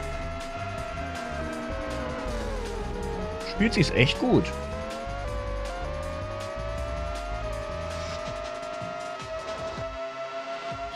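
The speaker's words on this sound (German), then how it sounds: "dass die Autos ein bisschen komisch klingen. So hochgepitchte Formel 1 Wagen." High-pitched Formula 1 car engines whine and rise in pitch in a PS1 racing video game, with a brief burst of tyre squeal midway, under someone talking throughout.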